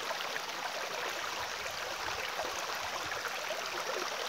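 A mountain forest stream flows steadily, a continuous broadband rushing of water heard close and evenly throughout with no talking.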